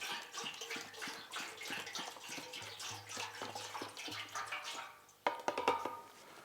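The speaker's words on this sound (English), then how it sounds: "I'm going to pour that vinegar in." Apple cider vinegar poured from a jug into an old Honda three-wheeler gas tank, a steady gurgling, splashing stream close by that pauses briefly before resuming.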